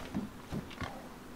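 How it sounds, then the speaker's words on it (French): Pigs grunting in the video game DayZ: three short, low grunts spaced across a second and a half, moderately close, with no talk over them. "Ah non, c'est un cochon, y'a des cochons."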